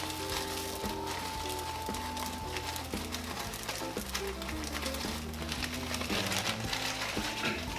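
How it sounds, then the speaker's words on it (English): Frozen peas and carrots sizzle and crackle steadily in a frying pan with tomato paste, a constant close frying hiss over background music. "what we're gonna do is go in with a bag of frozen peas and carrots."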